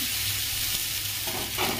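Fennel and ginger paste sizzles in hot oil after a pinch of asafoetida, a dense, steady frying hiss up close with faint stirring scrapes and no voices.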